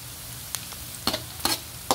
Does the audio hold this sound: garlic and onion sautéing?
yes